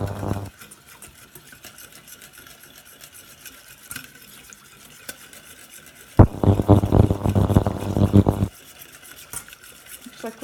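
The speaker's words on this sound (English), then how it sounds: "And then you just start whisking it." A whisk scrapes rapidly through milk-thickened lasagne sauce in a pot, with faint stirring at first, then a loud burst of fast rhythmic whisking for about two seconds before it drops back to quiet.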